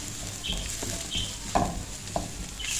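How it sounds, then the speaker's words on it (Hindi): Onions and green chillies sauté in a pan, a soft steady sizzle broken by a few light stirring scrapes and taps, close and fairly quiet with no talking. "थोड़ा सा हम इसको सौते करेंगे ताकि प्याज जो है हमारा सॉफ्ट हो जाए।"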